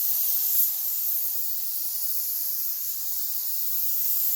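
A spray can lays a coat of paint on a replacement brake line for a Ford Ranger outdoors, heard as a steady continuous hiss close by with no breaks.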